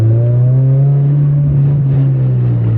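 Nissan S15 drift car engine, a loud, close, steady droning rumble with strong harmonics, pitch drifting only slightly as it holds near a constant rev.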